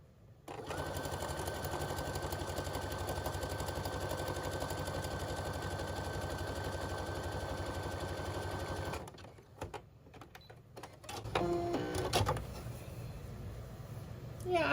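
Sewing machine stitching quilt blocks, a fast steady mechanical whir running continuously for several seconds, then stopping, followed by clicks and fabric handling noises close by.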